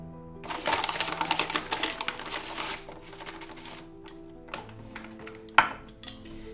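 Flour is stirred into mashed sweet potato for vegan gnocchi, with a rapid, busy clatter of a utensil scraping and knocking against a bowl, easing into scattered clinks and a sharper knock.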